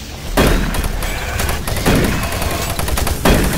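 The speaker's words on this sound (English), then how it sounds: "the turrets are shooting at me" Rapid automatic gunfire from turret guns in Doom 3, loud, dense bursts that come in several overlapping waves with thumps under them, with no talking.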